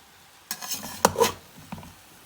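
Madrasi chicken biryani is stirred in a pot after slow-flame dum cooking, a few close scraping and clinking strokes of a spoon against the pot over a faint background, with no talking.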